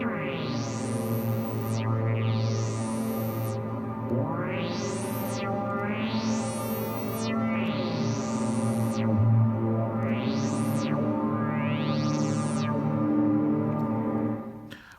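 A Dreadbox Nyx v2 synthesizer drone holds steady while repeated rising pitch glides on the second oscillator sweep upward, about seven in a row, layered with echo and no voices.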